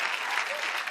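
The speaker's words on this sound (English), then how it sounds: "Can we applaud for Zach Woods, everybody?" Studio audience at a comedy talk show applauding for a guest, a dense, loud burst of continuous clapping heard alone for about a second.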